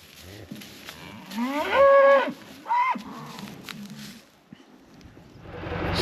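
Calves on a farm moo at feeding time, two drawn-out nearby calls followed by a shorter one, with soft rustling and movement around them.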